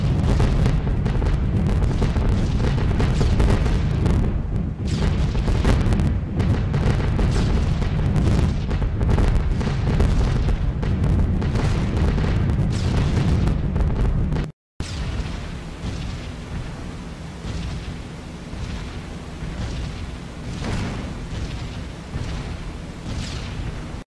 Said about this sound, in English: Hopefully some of these bombs scatter and hit the pier.